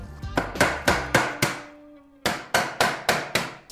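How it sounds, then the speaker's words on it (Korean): Hammer blows ring out while a premium Aton aluminum shelf is assembled: a quick run of about six sharp strikes, a short pause, then another steady run of six close, loud strikes. "망치질 해야 되겠다"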